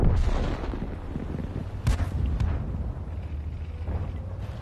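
A tank cannon fires in World of Tanks, a heavy boom at the start and another sharp blast mid-way over a steady low engine rumble, loud and close.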